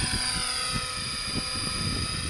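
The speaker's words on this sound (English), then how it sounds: "It's hard to keep an eye on the helicopter when the scenery is so beautiful" A helicopter flies over an airport in forward flight, its rotor thudding in a fast even beat beneath a whining turbine tone, steady and fairly close.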